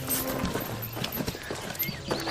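Horse hooves clip-clop in a brisk, uneven rhythm at close range, with faint ambient noise and no speech over them, in a family fantasy adventure film about an enchanted stallion.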